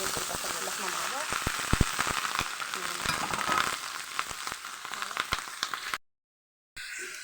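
Minced meat and gizzards fry in a pan with onion and tomato, giving a bright, crackling sizzle broken by sharp pops and stirring clicks. It cuts out abruptly for a moment near the end, then resumes.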